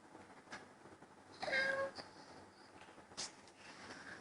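A young child imitates a cat's meow, giving a clear, high, drawn-out meow in the middle and a shorter squeak later, set against quiet room noise and faint background sounds.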